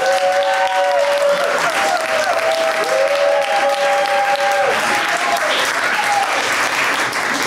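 Loud, continuous applause from a large crowd, steady clapping filling the whole stretch with a few bright tonal cheers or whistles riding on top.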